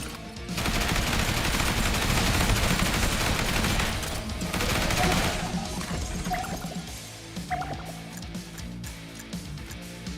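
Explosive rounds fire in the zombie survival game Yet Another Zombie Survivors, a dense, loud barrage of rapid gunshots and small blasts that holds for several seconds, then thins into scattered hits.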